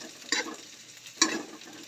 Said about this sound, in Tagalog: Lalagay na natin ang salay. Ating sasama sa gisa